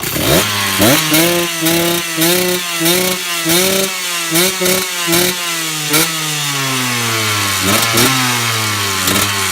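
Two-stroke dirt bike engine warming up, loud and close, with repeated sharp throttle blips rising and falling in pitch over a buzzing idle, ending in a longer held rev.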